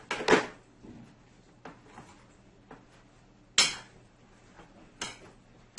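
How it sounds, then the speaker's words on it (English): A spoon stirs a corn and black bean salad in a bowl, making intermittent knocks, scrapes and clinks at a close, moderate level, with quiet pauses between strokes. "now you're going to give this a nice mix here"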